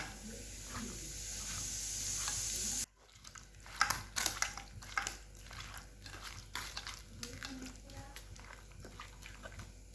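Meat marinated with egg, turmeric, salt, soy sauce, vinegar and cornflour is mixed by hand in a bowl, giving soft wet squelching and slapping after a steady noise cuts off, close and moderately quiet.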